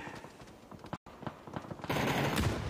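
Gunfire rattles in a battle royale video game during a tournament match. Faint bursts of automatic fire come first, then a louder, sustained barrage of shooting and noise takes over.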